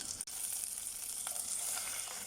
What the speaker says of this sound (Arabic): دي انا مشوحاها اوريدي من الاول، دي تشويحه بسيطه كده